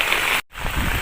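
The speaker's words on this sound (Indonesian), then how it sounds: "karena suara hujannya deras banget" Heavy rain pours down on a bamboo shelter at a mountaintop campsite, a dense, loud, steady hiss broken by a brief dropout.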